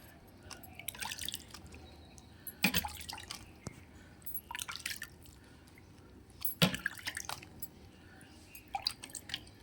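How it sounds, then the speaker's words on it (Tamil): Water sprinkled by hand over soil and seeded pots in a terrace garden, heard as quiet scattered splashes and drips in a few short bursts with near-silent gaps between. "எல்லாத்துக்கும் லேசாக தண்ணி தெளிச்சுக்கலாம்"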